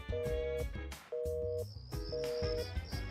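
A call cuts off in the video game Persona 4 Arena Ultimax: short electronic phone tones beep in a quick repeating pattern over game music, followed by a thin high sustained tone.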